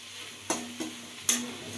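A spoon scrapes a few times through amaranth leaf curry with ginger in a pan, giving two or three close, distinct strokes over a faint steady sizzle. No one speaks.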